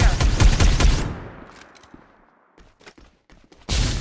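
Gunfire in the battle royale shooter Farlight 84: a rapid burst of automatic shots, loud and close, trailing off into scattered lighter clicks and taps before another loud burst starts at the end.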